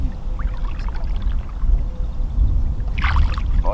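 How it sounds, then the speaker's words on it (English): A smallmouth bass is let go back into the Mississippi River from a boat, with close, brief splashing and water sloshing near the end over a low hull and wind rumble. "So we're gonna get this girl back in the water."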